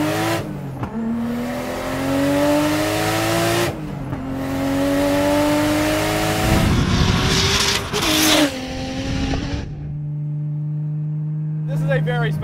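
A high-revving turbocharged RB25 engine in a Nissan S13 240SX screams loudly to about 7,500 RPM with rising harmonic tones, dropping briefly between pulls, then settling into a lower steady idle near the end.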